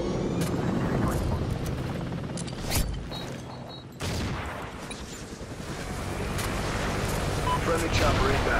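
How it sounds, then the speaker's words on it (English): Helicopter rotor noise from the arriving friendly chopper in Call of Duty Ghosts, a broad steady roar mixed with surf-like wash and distant gunfire, swelling again after a brief dip near the middle. "Friendly chopper inbound."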